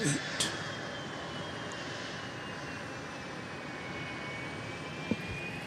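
A Southwest Boeing 737-700 arriving at Dallas Love Field gives a continuous, fairly distant jet roar with a faint high whine that slowly shifts in pitch, plus a couple of small clicks.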